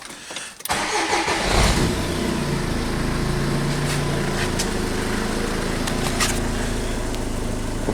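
A Renault Trafic van's engine cranks and catches abruptly, then settles into a loud, steady idle close by, with slight rises as it is revved, and no talk.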